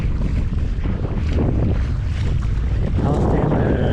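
Wind buffets the microphone on open water during stand-up paddleboarding at an open-water swim event, a loud, steady rumbling roar that carries on without a break.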